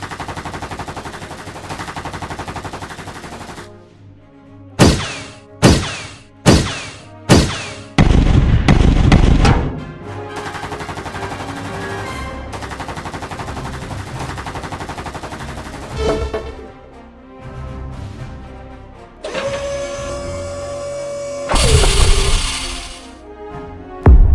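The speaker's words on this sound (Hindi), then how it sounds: "गोली की आवाज सुनते ही जयकाल आर्मी अलर्ट हो जाती है" Gunfire in an animated fight between robots and an army: several loud, sharp single shots in quick succession, then a burst of rapid fire, with an intense tonal effect near the end and no speech.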